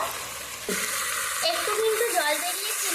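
A goat head curry sautéing in a pan, a loud close sizzle with stirring scrapes, while a voice talks over part of it.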